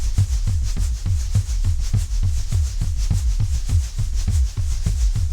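A steady electronic shaker rhythm, crisp bursts of high hiss over a repeating low thump, looping evenly throughout with no voices.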